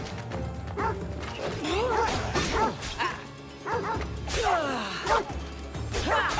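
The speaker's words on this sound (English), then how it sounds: "This dog needs to die." Dogs in the Assassin's Creed Odyssey video game bark and yip repeatedly in quick, overlapping bursts, with whimpers and scuffling combat noise, loud and close throughout.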